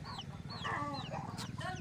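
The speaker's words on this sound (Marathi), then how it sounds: "हे बघा असिलचे दोन कोंबड्या आहेत" Two Aseel hens clucking close by in a home yard, several quick rising clucks in a busy, choppy run over a low background hum.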